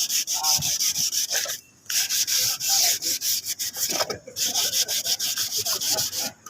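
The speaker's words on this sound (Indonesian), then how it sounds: "ini kita gosoki terlebih dahulu sebelum kita pasang stripnya yang baru agar halus" Wood is sanded by hand before a new strip is fitted: loud, close rasping strokes in a steady back-and-forth rhythm, broken by two short pauses.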